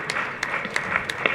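A seated audience gives a short burst of clapping during a Tamil political speech at a book launch. The applause is dense, close and steady for just over a second.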